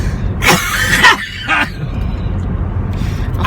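A couple of short coughs up close, followed by quieter background noise.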